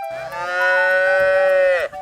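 A single cow moos once, loud and close, in a sustained tonal call lasting about two seconds that drops in pitch at the end, heard alone.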